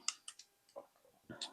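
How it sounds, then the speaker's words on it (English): A flare module snapping into place on a Victorinox 58mm multitool, heard as several sharp, close clicks with short gaps between them and a brief rustle of handling near the end. "pushing it down, and then clicking it across"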